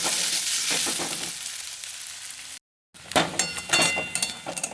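Two medium chopped onions frying in oil until light brown, a steady close sizzle with spoon scrapes, broken by a brief silent gap before the crackling resumes louder.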